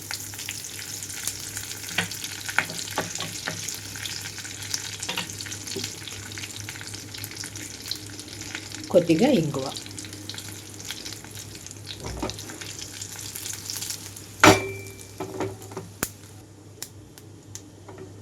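Tempering seeds and curry leaves sizzle in hot oil, a quiet, steady crackle broken by occasional stirring scrapes and sharper pops, with a few brief spoken words.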